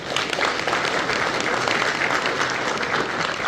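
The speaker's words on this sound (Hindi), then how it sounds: "मुझे लगता है हम सबको जोरदार तालियां अपने बीएलओ के लिए जरूर मारनी चाहिए" An audience at a National Voters Day celebration in Srinagar breaks into steady, loud applause, a dense even wash of many hands clapping at once with no voices on top.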